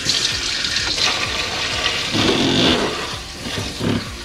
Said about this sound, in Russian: Моем их просто под холодной струей воды.